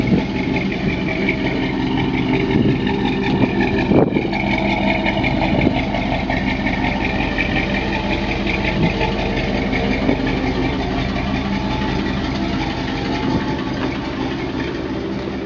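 A car engine idles steadily and loudly nearby for the whole stretch, a continuous even rumble with one brief knock partway through.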